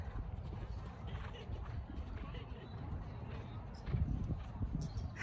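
Hooves of a horse at a hunter trials show clip-clop steadily outdoors, a faint rhythmic patter heard under background noise with no clear talk.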